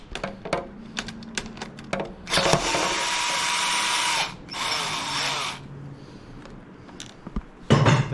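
Power driver with a T25 bit removing screws from the hand controls of a 2020 Harley-Davidson Low Rider S, two loud whirring bursts between sharp clicks and handling taps, no talk.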